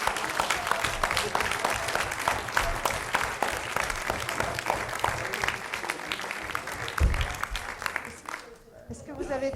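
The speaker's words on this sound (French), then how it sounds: "maintenant vous pouvez les applaudir, ils seront contents. On applaudit les Castors." An audience claps steadily throughout, a dense patter of many hands that fades near the end.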